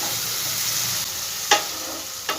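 Chopped onions frying in a pan of hot oil for a home-style curry: a continuous close sizzle with two sharp stirring scrapes, no voices.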